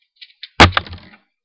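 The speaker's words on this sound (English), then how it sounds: "Let me shoot a missile." A Transformers Ironhide toy figure fires a spring-loaded missile, giving one sharp plastic snap after a couple of small clicks, close and loud, then a quick rattle that dies away.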